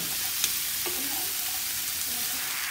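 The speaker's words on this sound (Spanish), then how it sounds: "Y salteamos el morrón junto con la cebolla y el ajo por unos 5 minutos," Red and orange bell peppers sautéing in a pan with onion and garlic, a steady loud sizzle throughout with a few soft stirring clicks.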